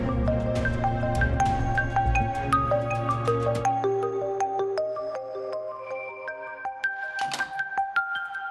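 An incoming call sets off a mobile phone ringtone that plays a bright, chiming melody of bell-like notes over a low sustained tone, loud and continuous for several seconds with no voices.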